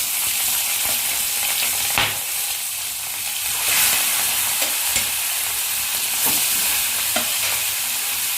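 Prawns fry in hot oil in a kadai, giving a steady, close sizzle with occasional sharper crackles and pops, heard alone without talk.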